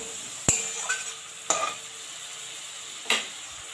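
Tomato, eggplant and spices being sautéed in a pan, a soft sizzle under three or four sharp metallic spatula clinks and scrapes, close and alone.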